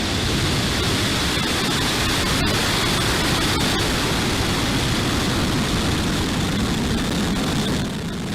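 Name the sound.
rocket engine ignition and liftoff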